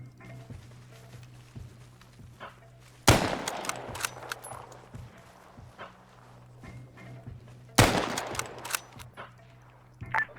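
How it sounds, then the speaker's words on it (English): Gunfire in the military shooter game Arma 3: two sharp, loud broadband bursts about five seconds apart, each followed by a scatter of smaller pops and cracks over a low steady hum, with no talking. "Gunfire coming in northwest."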